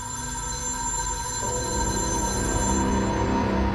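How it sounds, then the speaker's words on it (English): A telephone bell rings steadily and loudly without pause, a continuous electronic ringing inside a cabin in the woods, with no voices over it. "People don't let the phone ring that long unless it's really important."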